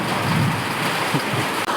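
Rain pouring down at night, a dense close steady hiss of falling water with a faint low rumble beneath, continuous throughout the short stretch.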